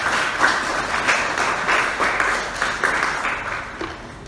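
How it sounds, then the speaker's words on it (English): An audience at a theatre event claps for senior theatre practitioners, a moderate, fairly steady round of applause with scattered individual claps, no voices over it. "A big round of applause for the senior theatre practitioners and our pioneers."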